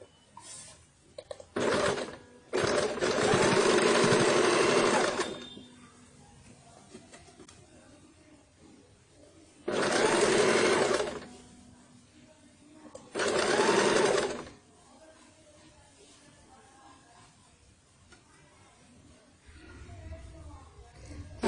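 A sewing machine stitching the cuff of a baby shirt runs in three close bursts of steady whirring, a longer run first and two shorter ones later, with someone talking quietly in the gaps between.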